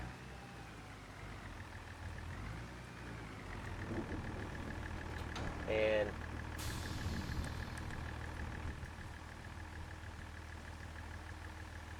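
Steady low diesel drone from an 8-ton farm tractor running in a wet, muddy field, a continuous idling rumble with a brief louder burst midway and no talk over it.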